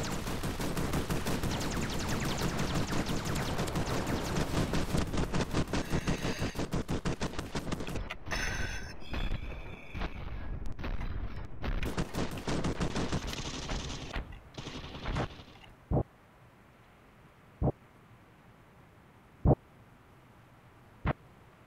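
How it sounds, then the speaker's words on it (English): Plasma pistol gunfire in a video game: dense, rapid bursts of shots fire continuously for about fifteen seconds, then thin out to a few loud single shots separated by silence. "I have a plasma pistol. I will shoot you."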